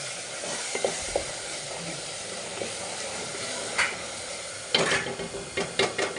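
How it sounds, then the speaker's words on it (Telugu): Masala paste fries in oil in a pan for tomato rice with a soft, close sizzle and hiss. A spoon scrapes and knocks against the pan several times, sharper toward the end, and nobody speaks. "పేస్ట్ అయితే ఫ్రై అయిపోయింది"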